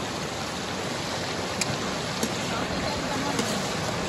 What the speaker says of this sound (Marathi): पाऊस येतोय